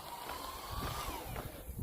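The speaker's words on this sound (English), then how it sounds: "what you just heard there is my little portable little recharging fan" A small portable rechargeable fan runs with a quiet, steady airy whir and a faint thin whine, a low background hum with no talking.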